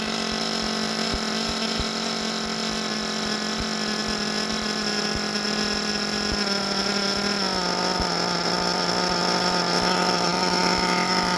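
A nitro RC engine with its idle raised runs close by in a steady, loud buzz that never drops out, holding a constant pitch with a faint ticking pulse underneath.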